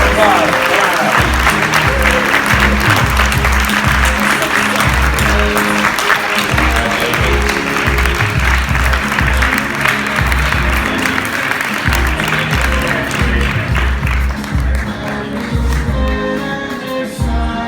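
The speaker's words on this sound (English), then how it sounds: "Let's give a round of applause." An audience at an award ceremony applauds loudly and continuously, dense clapping that holds steady then slightly thins toward the end.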